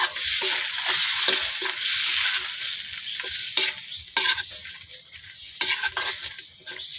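Duck adobo fries in a pan while a utensil stirs it, a loud bright sizzle broken by sharp scraping clanks against the pan, with no speech.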